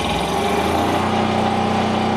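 A loud, steady diesel engine drone from a 7,000-watt Kubota generator, with a rapid low chugging, running continuously without change.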